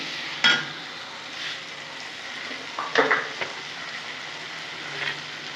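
Chicken sautéed with onion masala in a pan, a faint steady sizzle broken by a few scraping stirs of the spoon, one near the start and a cluster midway.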